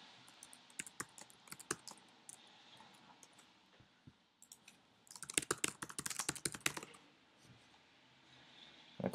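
A connection name being typed on a computer keyboard during software setup; faint scattered key clicks give way to a dense, rapid burst of typing midway, then sparse taps, close and quiet with no talk.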